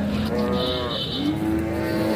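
Cattle low loudly and close at a country cow market in Pazhaiyakottai, one long drawn-out moo followed by another, with no talk over them.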